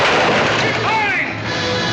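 Gunfire in a battle scene from the 1940 film Santa Fe Trail: loud, dense and continuous shots and booms in a thick wash of noise, with shouting voices mixed in.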